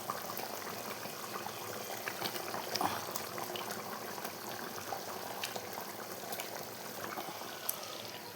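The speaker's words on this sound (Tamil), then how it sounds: "மீன் குழம்பு நல்லா கொதிச்சிருக்கு" Fish curry (meen kuzhambu) with raw mango simmers in a pot. The bubbling is quiet and continuous, with soft scattered pops and no talking.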